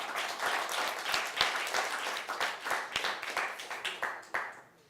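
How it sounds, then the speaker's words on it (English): An audience applauds a poet at a high school event, giving a dense, steady burst of clapping from many hands that thins out near the end. "let's give a warm round of applause for Eli Schukert"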